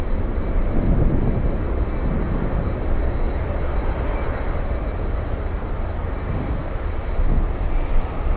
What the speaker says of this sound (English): I'm also saying F-22 Raptors.